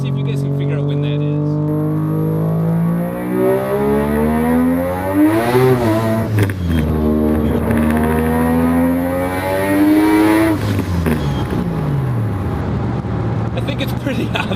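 An engine fitted with a BorgWarner S480 turbocharger revs repeatedly, rising and falling in long loud sweeps with a whistling turbo tone, while someone talks over it.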